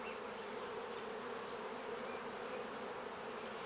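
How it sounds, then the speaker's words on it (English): Honey bees swarm over a hive frame during queen rearing, a dense, steady buzzing hum that stays loud and close throughout, with no voices. "If I just shake off the bees"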